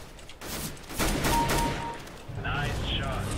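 Gunfire in the video game CS:GO, several dense bursts of shots mixed with game effects, loud and sustained, with a person talking over part of it.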